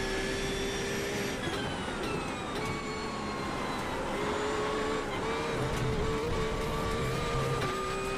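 GT3 race car engines in a rain race at Oulton Park within a racing video game, a steady droning whine with shifting pitch as engines rev and change gear, continuous and fairly loud with no talking.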